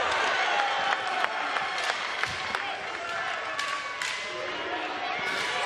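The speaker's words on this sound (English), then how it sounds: "all of a sudden, the fans here for France cheering on" Basketball crowd in an arena cheering and applauding for France during a 2024 IWBF men's wheelchair basketball repechage game against the Netherlands, a steady loud roar with scattered claps and a commentator talking over it.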